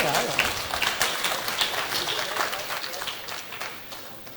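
A short round of clapping from a small group fades out as a voice speaks over it.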